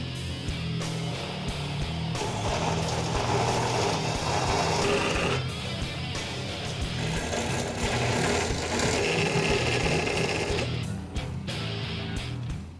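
A saw cuts pieces at a 22.5-degree angle for a 1964 Comet drag car build, giving a loud, steady rasping grind that runs almost without a break, with short dips in intensity and no talk.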